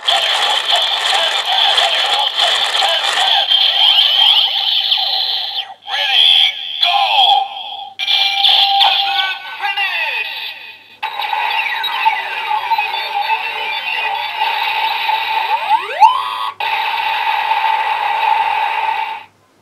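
A Kamen Rider Build DX Hazard Trigger toy plays its Hazard Finish special-move effect, a loud electronic sequence of alarm-like beeping, jingling tones and rattling sound effects with brief gaps, up close.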